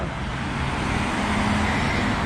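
Steady roar of road traffic in Bucharest, Romania, a dense continuous wash of car and engine noise with a faint low hum, heard up close with no distinct passes and no voices.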